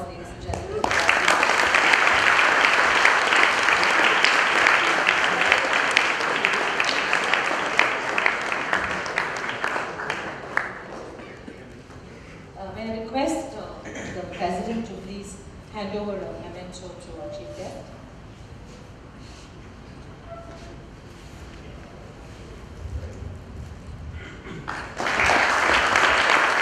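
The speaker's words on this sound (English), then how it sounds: "huge round of applause, ladies and gentlemen." Applause from diners at a 2014 formal dinner rings out loud and dense for about ten seconds, dies away under a stretch of speech, then swells up again near the end.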